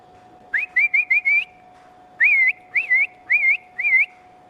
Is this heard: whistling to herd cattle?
yes